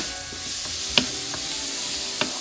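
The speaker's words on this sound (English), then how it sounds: "I'm going to be stir frying this again, so adding it to the noodles" Shrimp, chicken, vegetables and noodles stir frying in a pan, with a steady soft sizzle and a couple of sharp clinks or scrapes of a utensil against the pan, close by with no talking.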